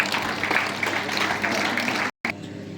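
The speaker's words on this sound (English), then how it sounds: "give them a big round of applause" Audience at a school assembly clapping, a dense broad wash of applause running steadily for about two seconds, then cutting off abruptly into quieter room sound.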